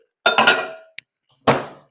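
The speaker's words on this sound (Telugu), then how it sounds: "దీన్ని ఇక మైక్రోవేవ్లో పెడుతున్నానండి." A few sharp clinks and clatters of a dish being set down in a microwave, close and distinct, ending with one final knock.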